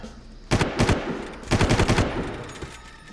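Two loud, close bursts of automatic gunfire in Far Cry, each a rapid string of sharp cracks lasting about half a second, separated by a short pause, with a brief echoing tail and no talking.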